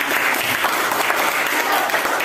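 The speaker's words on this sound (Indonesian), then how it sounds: "Tepuk tangan kepada Ibu semuanya." Classroom students clap together in a dense, continuous burst of applause, close and steady from start to finish with a faint voice underneath.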